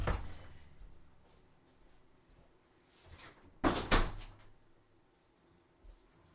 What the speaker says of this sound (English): My dog left the room, so just close the door.